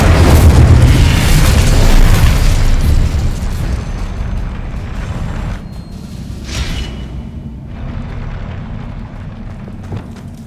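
An Incendio fire spell cast in the video game Hogwarts Legacy: a loud, fiery boom at the start that fades into a long, rumbling roar with a brief whoosh midway.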